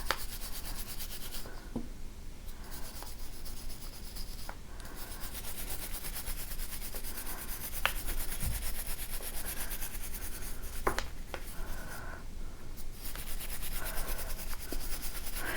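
A soft jeweler's brush sweeps over a metal bangle to burnish it, giving a continuous close brushing rub with repeated strokes and a few faint clicks.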